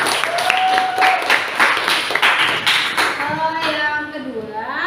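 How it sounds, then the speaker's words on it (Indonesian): A classroom breaks into applause, a burst of quick overlapping claps from students, while a voice speaks over it and the clapping fades toward the end. "beri tepuk tangan buat Tafi."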